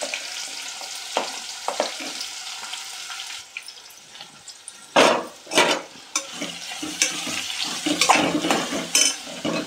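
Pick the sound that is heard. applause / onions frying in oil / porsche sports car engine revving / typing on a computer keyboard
onions frying in oil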